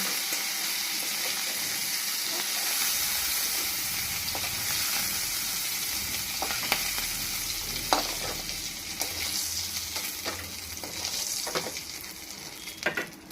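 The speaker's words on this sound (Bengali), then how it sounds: "মাছ ভাজা তেলের উপরে" Prawns fry in hot oil nearby with a loud, unbroken sizzle, dotted with sharp crackles and small stirring clicks throughout, and no one speaks.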